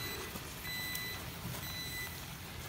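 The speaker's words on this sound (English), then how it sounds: "Oh, it's my stove that's beeping." A kitchen stove sounds two quiet, steady electronic beeps, each held for a fraction of a second, over a low constant hum with no talking.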